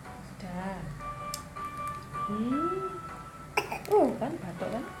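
A young child coughs a few times amid a busy home setting, with adults talking and a voice around the short, moderately loud bursts.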